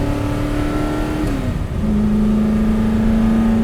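The engine of a Superformance Ford GT40 MKII hums and then drops in pitch as the revs fall before settling into a steady, loud, close drone.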